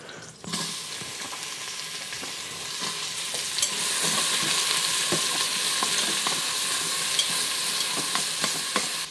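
Chopped onion drops into a pot with seared pork and sizzles steadily, the frying hiss swelling after a sharp start, with scattered crackles and stirring clicks, close up and without voices.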